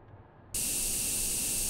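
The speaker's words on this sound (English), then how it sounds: "I see, I'm spray painting." Spray can painting in the video game Jazzpunk, a sudden loud, steady hiss that starts abruptly and holds unbroken, close and without other sounds.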